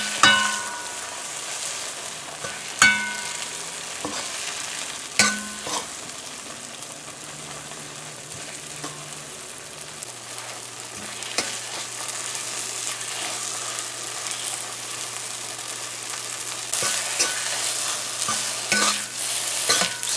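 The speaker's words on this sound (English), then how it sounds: "So this halwa masala here has to be cooked for about 2 minutes." Halwa masala frying in hot melted margarine, a steady soft sizzle broken by intermittent scraping stirs against the pot, close and unbroken with no talking.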